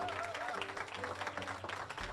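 Applause from an audience of parents and children at a spelling bee, a continuous, fairly faint patter of many hands clapping with a low hum and some background murmur underneath.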